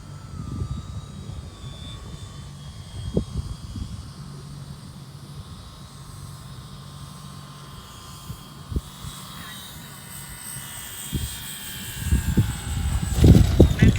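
A FlightLine 1700mm F7F Tigercat twin-engine RC warbird comes in to land with gear down, its electric motors a steady distant whine over low rumbling wind noise, growing louder near the end as it passes close.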